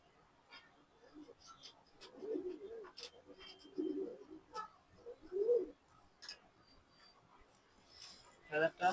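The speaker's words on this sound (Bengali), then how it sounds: "এগুলো লঙের কবুতর" Racing pigeons cooing in soft, low bursts at a home loft, a few quiet rounds spaced across the moment amid light background noise and brief faint chirps.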